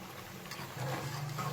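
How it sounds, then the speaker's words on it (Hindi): Masala for beef nihari frying in a pot over normal heat, a steady close sizzle and bubbling that grows slightly louder partway through. "मिनट हो गए हमें मसाला भूनते हुए।"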